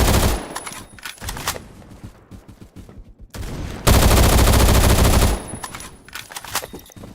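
Automatic gunfire in the video game Phantom Forces: rapid bursts of shots with short gaps, then a loud sustained stream of fire, close and sharp, with no voices.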